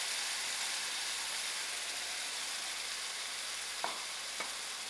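Tinned fish sizzles and fries steadily in a masala sauce in a pan, a continuous close hiss with two brief clicks of stirring near the end and no talking.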